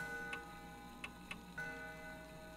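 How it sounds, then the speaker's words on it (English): Antique grandfather clock in the Death Mark video game ticking four times at uneven spacing, crisp and fairly close, set against a sustained low musical drone. "It's an antique grandfather clock. The noise is definitely coming from here."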